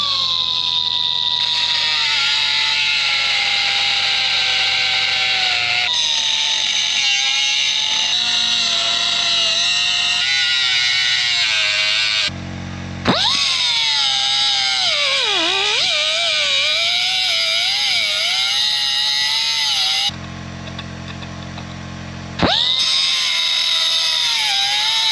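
A Chief 4-inch extended air cut-off tool screams at a high, steady pitch as it cuts, the tone wavering under load and stopping briefly twice before starting up again.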